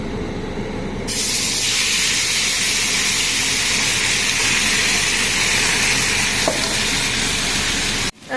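Hot water hitting a pan of hot spices, a loud, steady close hiss and sizzle that surges at the start and holds evenly for several seconds before cutting off.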